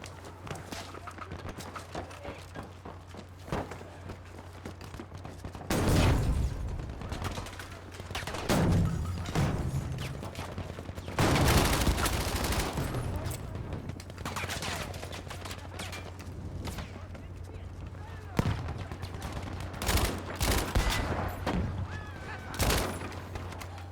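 Shotgun blasts in a video game, several loud booming shots spaced seconds apart against a steady background hum, with a player speaking between them.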